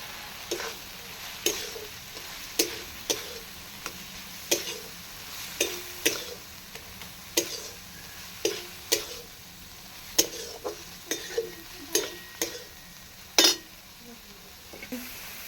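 A spice paste with coconut powder frying in a pan for a kochur loti and fish-head curry, a soft constant sizzle broken by sharp, regular spatula taps and scrapes every second or so.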